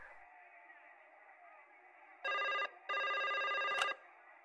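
Two bursts of an electronic telephone ringing in the Broken Sword 5 video game, loud and even with a short gap between them, over a quiet background hum.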